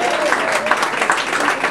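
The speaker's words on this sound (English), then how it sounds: "I give someone a round of applause for that" A crowd applauding at a music ministry celebration, a dense, loud, continuous clatter of clapping with voices mixed in.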